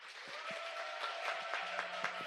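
A church congregation applauds during a worship service, a soft, steady spatter of clapping that stays at a fairly even level for a couple of seconds, heard from a distance.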